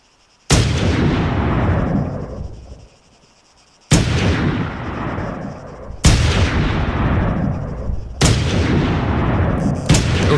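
Four loud sniper rifle shots from Arma 3 ring out, each a sharp crack followed by a long booming echo that fades over a few seconds, evenly spaced with no voices.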